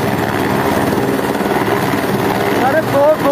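A helicopter carrying bodies from a cloudburst site near a mountain cave shrine thrums steadily and loudly, with rotor pulsing throughout and a voice speaking over it near the end.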